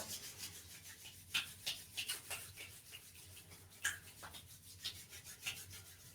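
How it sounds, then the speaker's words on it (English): Two palms rubbed briskly together during a shiatsu self-care session, a soft, close, rhythmic swishing friction repeated in short strokes, quiet and without talk. "We're going to rub the hands together."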